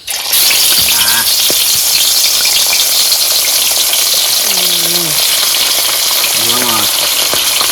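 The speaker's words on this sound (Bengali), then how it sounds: "বন্ধুরা তেল গরম হয়ে গেছে, মাছ দিয়ে দেবো।" Loud, close sizzling of fish frying in hot oil, a continuous crackling hiss, with brief faint voices speaking underneath.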